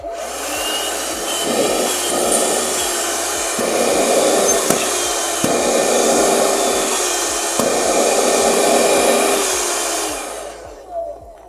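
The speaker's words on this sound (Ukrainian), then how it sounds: "Під'єднали живлення до пилососу і тепер можемо послухати, як він буде працювати" A small 12-volt car vacuum cleaner (BELAUTO Tornado BA-53W) runs with a steady whirring drone, its hum pulsing slightly in regular beats, then winds down at the end.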